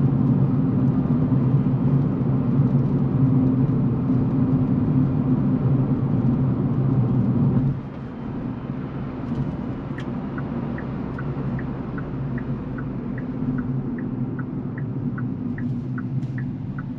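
Inside a 2024 Kia Picanto GT-Line with a 1.25L engine, a constant loud tyre roar and low rumble comes from driving on very rough chip-seal road near Pukekohe, Auckland. It eases slightly partway through, with faint ticks on top.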